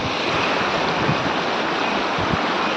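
A stream of water runs down from the hills beside a Mahadev temple, a loud, continuous rushing wash that stays steady and close, with no voices over it.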